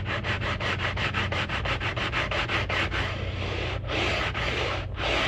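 Curly walnut lumber being hand-sanded flat on sandpaper: quick, even back-and-forth rasping strokes repeat in a steady rhythm, close and loud, then blur into continuous rubbing.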